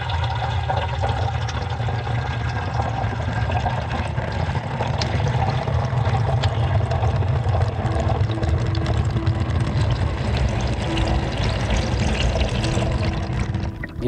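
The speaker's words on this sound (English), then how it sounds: "You can see the raindrops coming down, and eventually it was drowned." Artificial acid rain falls indoors as a steady, dense patter of drops on water, loud and continuous throughout with no voices.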